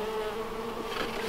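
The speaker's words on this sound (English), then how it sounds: "So now we got bees right next to our summer squash and zucchini to pollinate them." Bumble bees buzz steadily and loudly at close range around a hive set in a greenhouse beside summer squash and zucchini, a dense continuous drone with no voices.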